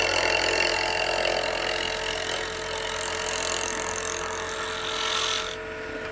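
A roughing gouge cuts wood spinning on a lathe at about 1300 RPM, giving a steady, continuous whirring hum with bright high-pitched scraping tones, fairly close and even throughout before easing off near the end.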